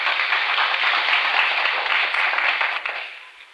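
A 1949 studio audience at a radio quiz show breaks into a burst of applause, dense steady clapping from many hands that holds briefly and then fades out, with no voices over it.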